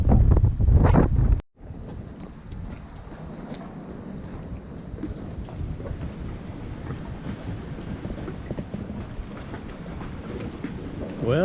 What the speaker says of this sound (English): Still hear the roar, the crashing of the waves on the shore out there.